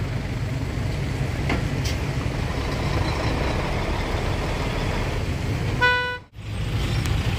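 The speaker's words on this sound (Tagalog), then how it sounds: "Haba ng traffic." Highway road traffic with engines droning steadily, a brief car horn toot near the end, then a passing vehicle's whoosh and a short dip, outdoors and loud without speech.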